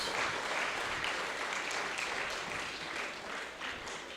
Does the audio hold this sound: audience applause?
yes